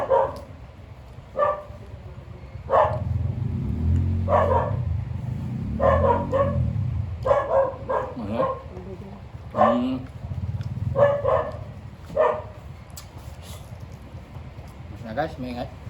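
A dog barks repeatedly in short, sharp yaps scattered over about fifteen seconds, fairly close, with a low rumble and voices in the background.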